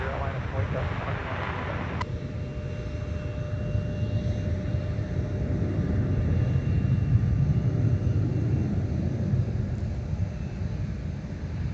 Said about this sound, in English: That's a Boeing 757-300.